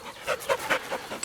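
Dogs panting outdoors on a forest trail, a run of quick breathy huffs in an uneven rhythm, close and moderately loud, with no talk over them.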